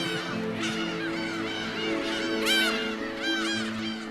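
On an uninhabited island covered in sedge, gulls call loudly at their nesting colony, many overlapping honking and yelping cries rising and falling over a steady background din.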